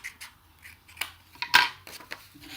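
Scissors cutting out paper tags, heard as a few close snips and rustles with one sharp, louder cut near the middle.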